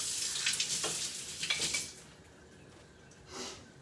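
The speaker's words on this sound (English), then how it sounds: "So just put in like half a stick of butter in the pan." Half a stick of butter sizzling and frying in a pan, a loud hissing crackle for the first two seconds that settles lower, with stirring scrapes and another brief sizzling burst near the end.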